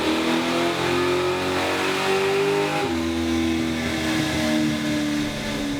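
A 1969 Camaro V8 revving hard on a dyno during a baseline pull after a carburetor adjustment, loud and close, its pitch climbing steadily, dipping briefly near the middle, then rising again.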